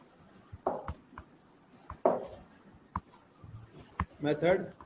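Chalk or marker writing on a board during a physics lecture on units and measurement, heard as a few short scratchy strokes in separate bursts, with a voice talking quietly in between.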